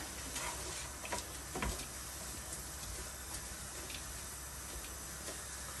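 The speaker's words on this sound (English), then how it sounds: "Continue stir frying it as well." Sweet potato stir-frying in a pan makes a steady low sizzle and hiss, with light scraping and clicking stir sounds scattered through, close up and with no talking.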